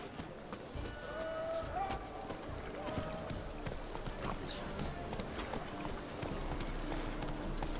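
A horse galloping in The Witcher 3 video game, rapid rhythmic hoofbeats under game ambience and a brief voice, moderately close and fairly quiet.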